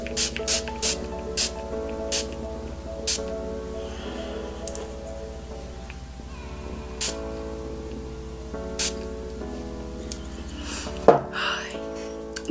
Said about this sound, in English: I'm going to be setting my face, and I'm using the FARSALI Rose Gold Skin Mist